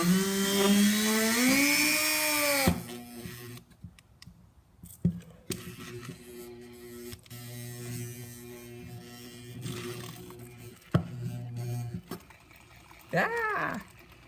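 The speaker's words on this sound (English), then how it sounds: "So now I just need to drill the holes" A drill bores holes in a wooden peg board for a Cracker Barrel–style peg game, its motor whining and rising in pitch at first, then scattered knocks and low hum, with another short whine near the end.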